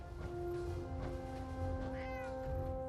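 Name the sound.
cat meowing in Fallout 4 video game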